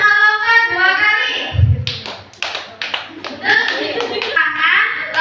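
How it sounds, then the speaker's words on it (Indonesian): Children at a seventh birthday party clap their hands and jump on cue in short bursts of claps and thumps, with a voice calling out between them. "Tepuk tangan sama lompat 2 kali"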